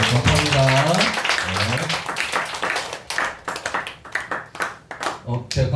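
A crowd at a church service claps together in steady, dense applause at first, which thins into scattered claps with a voice speaking over the end.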